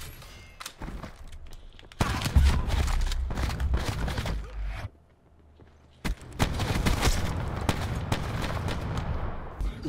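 Bursts of gunfire crackle through a Black Ops 4 match, loud rapid volleys in two long stretches broken by a short quieter gap, with occasional thuds.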